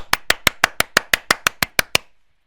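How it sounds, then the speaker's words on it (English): A single person clapping hands, about eleven sharp, evenly spaced claps at a steady rhythm, close and clear, then silence. "You all can applaud now. I'm applauding."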